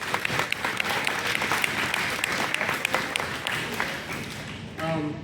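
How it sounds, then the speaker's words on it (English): A banquet audience at a middle school boys' sports banquet applauds the JV team. The clapping is dense and steady and lasts throughout, with a faint voice near the end. "If you would just give this JV team a round of applause."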